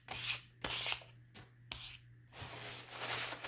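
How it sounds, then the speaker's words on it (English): Fine sandpaper rubs along the grain of a wooden bird carving in short, close strokes, each a rough scratchy burst separated by brief pauses, with a faint low hum underneath. "So you want to take your sandpaper, your fine one here, and just give it a sand with the grain."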